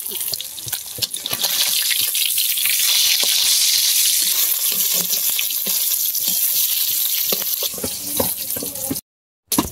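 Cumin and bay leaf fry in hot oil with a steady, bright sizzle and a few clinks from stirring, broken by a brief silence near the end.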